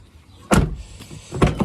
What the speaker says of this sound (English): If we shut the door,